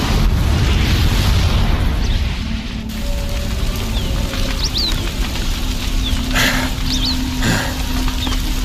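A bomb booby trap goes off in Horizon Zero Dawn, leaving a loud, sustained roaring rumble of explosion and debris, with a few sharp cracks and crumbling bursts scattered through it.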